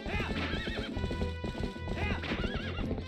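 A horse in the video game Twilight Princess whinnies several times over steady clip-clop hoofbeats, with game music and faint voices mixed underneath throughout.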